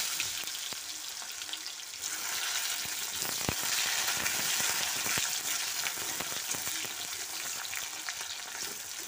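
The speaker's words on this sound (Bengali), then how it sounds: "এখানে আমার তেলটা গরম হয়ে গেছে, এবারে আমি একটু জিরে দিয়ে দেবো, দেবো তেজপাতা, আর দেবো পেঁয়াজ" Cumin seeds, bay leaf and onion frying in hot oil, a steady dense sizzle with crackles and faint stirring throughout, close and loud, no voices.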